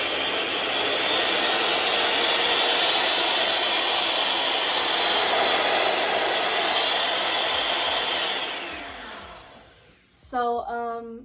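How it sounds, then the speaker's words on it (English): Electric mixer running steadily at speed 6 while mixing natural hair care products, a loud, continuous high whir close by that winds down near the end, followed by a brief voice. "obviously I invested in this mixer because I'm going to have to mix my products"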